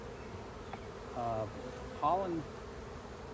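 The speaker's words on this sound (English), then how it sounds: "plenty of bees in here" Honey bees hum steadily around an open hive during an inspection, a faint, continuous buzz that persists under a person talking nearby.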